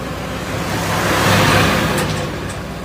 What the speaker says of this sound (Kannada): ನೋಡ್ರಿ ಎಷ್ಟು ಗಾಡಿ ಬರ್ತಾವೆ.